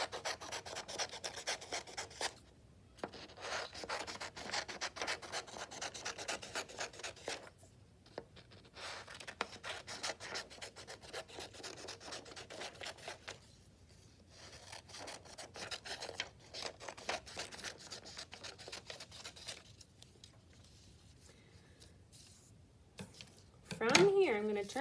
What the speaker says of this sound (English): Have my scissors cut on these wavy lines for my octopus tail tentacles.